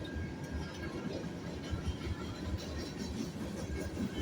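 A passing train at Rocky Mount gives a continuous low rumble and rattle of cars going by, fairly distant and steady with no voices.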